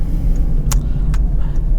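A 2015 Citroën C3 1.6 BlueHDi 75 diesel hatchback heard from inside while driving, a steady low rumble with a couple of short clicks or knocks over it.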